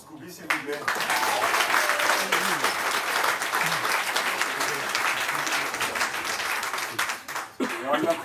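An open mic comedy audience applauds for a comedian, a dense, steady wash of clapping that swells and then thins toward the end, with voices talking over it.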